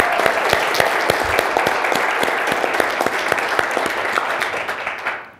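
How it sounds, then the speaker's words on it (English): Applause from an audience at a Berkeley talk on accessible applications, a dense steady patter of many hands clapping close by for about five seconds before trailing off at the end. "putting our hands together in a special round of applause for Lucy"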